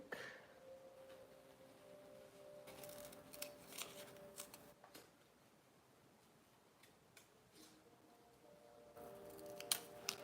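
Scissors snipping through sheets of stickers at a desk, with soft close clusters of cuts in short bursts separated by quieter pauses.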